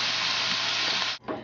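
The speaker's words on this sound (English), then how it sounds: "We're going to go ahead and let this cook for about 10 minutes to make sure that the sausage cooks" Sausage with garlic sizzles steadily in a hot pan, a loud continuous frying hiss that cuts off abruptly near the end before a brief stir or clatter.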